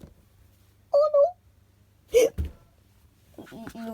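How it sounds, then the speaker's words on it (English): A cartoon character's hiccups, two quick high squeaky hics close together, then a louder gulping hic a second later, followed by a voice talking. "Oh, I got hiccups."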